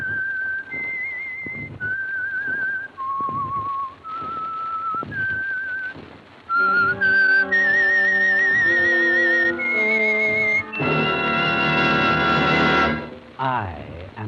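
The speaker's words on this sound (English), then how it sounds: "the signal to listen for is this whistle that identifies the signal oil program" A whistled theme melody for The Whistler radio program, a lone eerie tune of held notes with pauses, followed by a swelling orchestral musical sting, close and clear.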